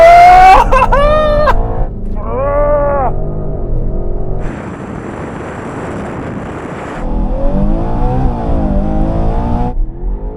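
SUVs, a BMW among them, launch together in a drag race, their engines roaring loudly and rising in pitch through the gear changes, with a dense noise burst in the middle as they pull away, all close and sustained.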